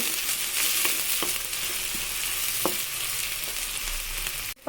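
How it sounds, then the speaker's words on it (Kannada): A whole onion frying in hot oil while being stirred, giving a steady crackling sizzle close by with occasional scraping clicks from the stirring, no voices. "ಎಣ್ಣೆ ಕಾದಿದೆ. ಒಂದು ಈರುಳ್ಳಿ ಪೂರ್ತಿ ತೊಗೊಂಡಿದ್ದೀನಿ, ಹಾಕೋಣ. ಸ್ವಲ್ಪ ಮಿಕ್ಸ್ ಮಾಡ್ಕೊಳ್ಳೋಣ."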